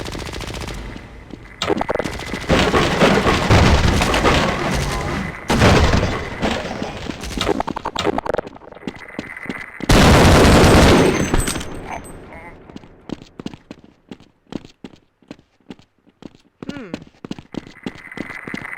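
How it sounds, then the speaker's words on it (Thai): Rapid automatic gunfire in the Half-Life video game, long dense bursts of shots broken by pauses, then scattered single and short volleys toward the end, with a person talking at times. "เอาปืนดีกว่า"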